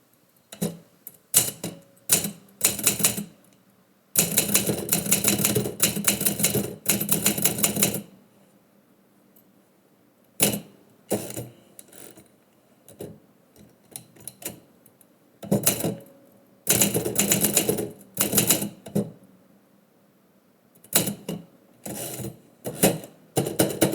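A manual typewriter typing poetry, rapid bursts of sharp clacking keystrokes broken by pauses and a long sustained run, close and crisp in a quiet room.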